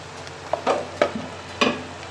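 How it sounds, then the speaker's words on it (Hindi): Ginger garlic paste frying with green chillies and tomatoes in a pan, heard as a few short bursts of sizzling and spatula scraping over a low background. "अदरक लहसुन के पेस्ट को हम 2 मिनट के लिए हल्का सा भूनेंगे"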